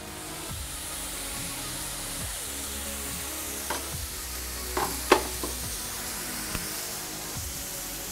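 Spaghetti tossed in a pan with pesto and browned cauliflower florets gives a steady close sizzle, with a few scraping stir knocks and clinks near the middle and no talking.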